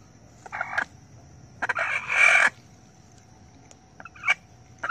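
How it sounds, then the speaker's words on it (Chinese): A chicken squawks and crows loudly in several sharp bursts, close to the microphone, with short quiet gaps between the cries and a soft steady background hum. "按推时鸡叫得特别厉害"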